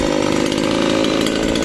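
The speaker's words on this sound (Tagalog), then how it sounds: "Napaka-useful talaga ng ating chainsaw na nabili" A chainsaw buzzes loudly and continuously at close range, its engine holding a steady high whine.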